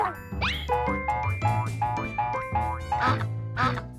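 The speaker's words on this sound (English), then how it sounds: "A duck makes a quack sound." Duck quacking in a series of nasal, honking calls, about eight in quick succession, loud and clear with no other sounds.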